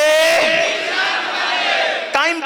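A large crowd at a religious Milad gathering in Hyderabad shouts a slogan in unison, loud and close, a single sustained chant with a brief sharp shout near the end.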